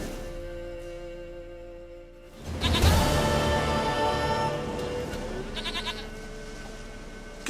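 A goat bleating in The Witcher 3, one long wavering bleat loud and close, rising sharply after a quiet start and tailing off over soft game ambience.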